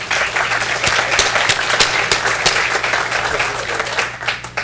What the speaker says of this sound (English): could we also have a round of applause for all of the presenters and all of the people that made this possible?